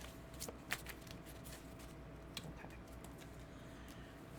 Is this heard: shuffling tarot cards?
yes